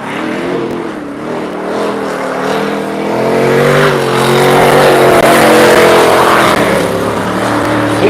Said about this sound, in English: It's Darius Tomczyk with his E36 twin turbo.